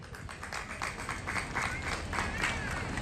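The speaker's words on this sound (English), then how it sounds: "would you please give a big round of applause for Mihajlo Mijatović." Crowd applause at a Serbian festival in Sydney, steady clapping from a gathered audience over a low rumbling background, moderately loud and continuous.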